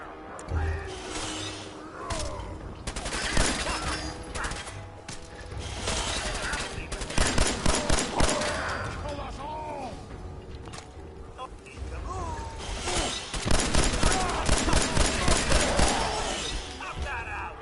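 Enemy gunfire in the Fallout 4 video game comes in repeated sharp bursts and rattling volleys across the whole stretch, mixed with game effects while a player talks over it.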